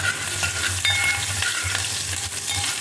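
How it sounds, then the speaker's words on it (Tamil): Chopped shallots sauté in a hot pan, giving a steady close sizzle with stirring scrapes throughout and no talking. "சின்ன வெங்காயத்தை வதக்கிண்டு"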